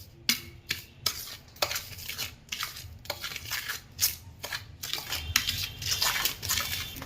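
A spoon stirs about 100 grams of salt with a spoonful of turmeric in a bowl, making a close run of irregular scraping clinks and gritty rustles with no talking.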